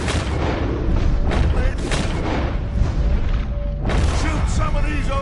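Dense, continuous gunfire and booming explosions in a Western shooter game battle against O'Driscoll gang members, loud throughout with rumbling blasts and shots layered under game audio.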